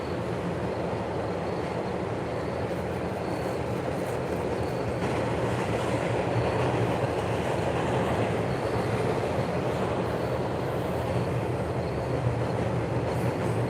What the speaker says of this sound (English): Man, both these trains have been really long